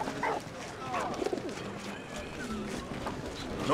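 Pigeon cooing in the WWI video game Valiant Hearts: The Great War, soft repeated coos over a busy game background, with a voice talking over them.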